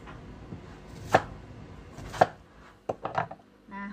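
A knife chops on a cutting board, a handful of sharp separate strikes spaced irregularly, close and clear in a quiet room.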